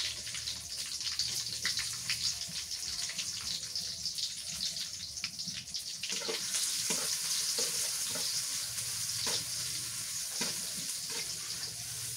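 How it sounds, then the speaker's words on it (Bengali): Onions sizzle and crackle steadily in a hot pan, with occasional stirring sounds and sharper hisses in the second half. "পেঁয়াজ ভাজা হয়ে গেছে"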